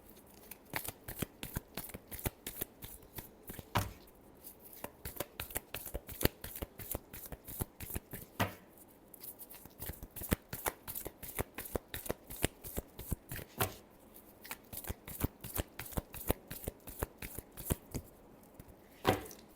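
Tarot cards are shuffled continuously by hand: rapid, sharp riffling and snapping bursts repeat in an even rhythm for nearly twenty seconds, close and clear with no talk.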